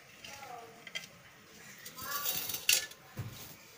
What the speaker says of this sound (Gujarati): હવે આપણે ગેસ ઓન કરીશું લોઢી મૂકી દઈશું